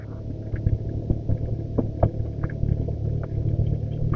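A vehicle descends a steep hill road toward Sajek, Rangamati, engine braking in second gear, giving a steady low rumbling drone with small knocks and bumps and no talk.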